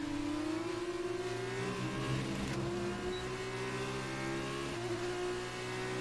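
Formula 2 race car engine in the F1 2019 racing game, loud and steady, with a tone that climbs smoothly through the revs as it accelerates and two short breaks at gear shifts; no voices.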